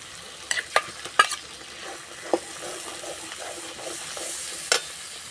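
Poppy seed paste frying with spices in a pan that has been fried until the oil separates, with scattered sharp scraping clicks of stirring over a steady soft sizzle.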